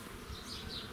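Buckfast honey bees hum inside an opened hive in a steady, soft, close droning buzz that carries on without a break, with no talking.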